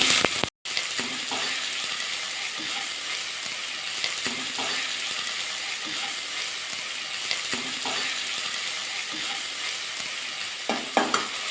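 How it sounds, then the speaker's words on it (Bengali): Continuous hissing sizzle of chopped onion frying in oil, steady throughout, with occasional soft stirring scrapes and a brief dropout near the start. "পেঁয়াজটা হালকা একটু ভাজা করে নেব"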